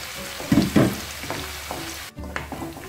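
Coconut pieces frying in a pan for a Kuttanadan-style beef roast, with bursts of stirring and scraping over a steady low sizzle, two louder clatters early and a brief pause before the crackle resumes.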